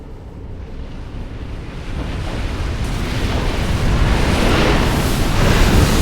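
A giant ocean wave breaks during tow-in big-wave surfing, a broad roaring wash of water and wind that swells steadily louder and fills the whole stretch with no voices.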